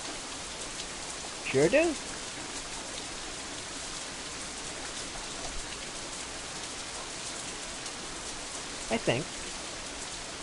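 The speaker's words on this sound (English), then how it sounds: "Okay, I kind of wish we'd get away from this rain" Steady rain falls throughout, a dense even hiss of drops spattering on surfaces, with a couple of brief spoken remarks rising over it.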